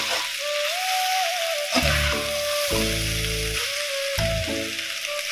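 Chicken fried rice sizzles loudly in a pan over a high gas flame, a steady close frying hiss with repeated low scraping strokes as the rice is stirred and tossed, no speech.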